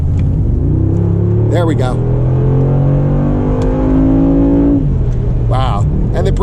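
A Mercedes G63 AMG SUV pulls away with a loud, rising engine note that climbs steadily through one gear over several seconds, then drops off, with brief talk from the driver at the start and end.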